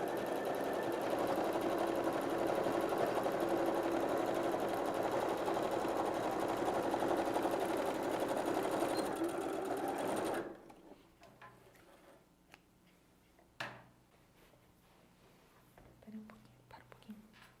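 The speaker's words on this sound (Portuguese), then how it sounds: "Essa costura vai ser feita com um pé de máquina, ou seja, agulha bem centralizada no calcador." A sewing machine with a standard presser foot, needle centered, runs steadily while stitching the side seam of a handmade bag, a continuous loud whir for about ten seconds that stops abruptly, leaving faint handling clicks and rustles.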